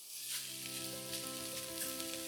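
Minced pork sizzles briskly in hot oil in a pan over medium-high heat, a steady bright crackle with small bursts, fairly quiet and close, with no voices.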